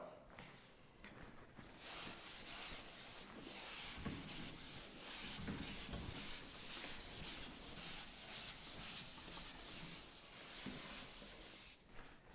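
Someone wipes writing off a board during a physics lesson, giving a steady, close scrubbing and rubbing sound in repeated strokes, with little else audible.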